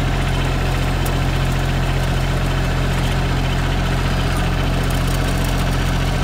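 A Grasshopper 72-inch commercial mower with a 30 hp Kubota engine idles steadily close by, a constant low mechanical drone with even vibration throughout and no voices.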